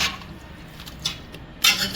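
A spoon scrapes and clinks against a pressure cooker pot while mutton chaap mixture is stirred. Soft, irregular stirring sounds lead up to a louder metallic clatter near the end, fairly quiet overall.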